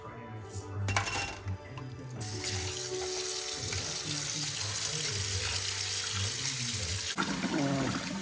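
A kitchen tap runs steadily into the sink while rice is rinsed, a close, continuous rush of water with occasional clinks of dishes and pots.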